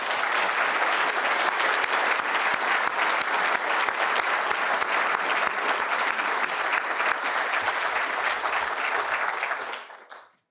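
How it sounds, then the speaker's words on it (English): Sustained audience applause fills the hall after a lecture by the President of Finland, a dense, loud wash of many clapping hands with no talk over it, holding steady for about nine seconds before fading quickly to silence. "Please, an applause."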